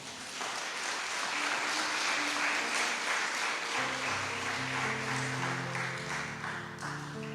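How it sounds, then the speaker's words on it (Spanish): A church congregation applauds during a service, steady clapping throughout, with sustained keyboard or organ tones entering partway and continuing beneath it. "Dale un fuerte aplauso al Señor"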